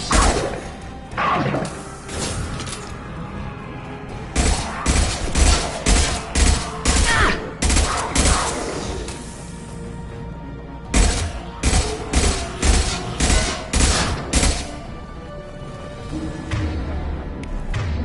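Gunfire in the Mass Effect Legendary Edition video game, repeated loud bursts of rapid shots in clusters separated by short pauses, close and punchy.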